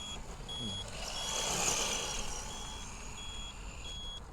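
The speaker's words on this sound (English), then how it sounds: "I really apologise about my bleeping battery." Yokomo RC buggy, a replica of a world-championship-winning car, sounding its battery warning: a steady high electronic tone with repeated short beeps running through the whole clip, fairly faint, with no talking.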